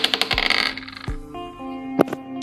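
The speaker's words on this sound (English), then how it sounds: "I'm rolling a different dice." Dice are rolled onto a table during a Dungeons & Dragons tournament match, giving a quick run of clattering taps followed by a few sharper knocks with a brief metallic ring, heard close and alone.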